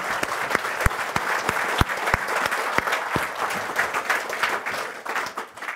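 A seated audience at a history seminar applauds the speakers, a loud, dense round of many hands clapping with distinct sharp claps standing out near the start, tapering slightly by the end.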